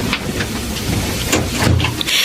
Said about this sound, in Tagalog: Ang lakas ng ulan, ha?